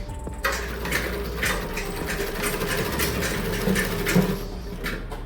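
Overlock sewing machine running steadily, a continuous fast mechanical whir with rhythmic stitching pulses, close and fairly loud, with no talk over it.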